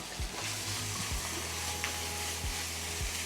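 Chicken fried rice is stir-fried in a heavy wok with a steady sizzle and hiss of frying, broken by several low scraping knocks of the spatula against the metal.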